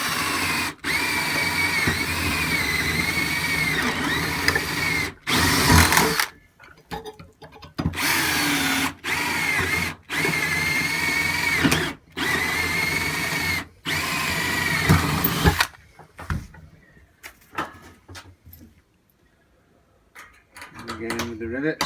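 A power tool fits rivets on a rack modification, firing in repeated short loud whirring bursts separated by pauses, with some quieter handling noises near the end.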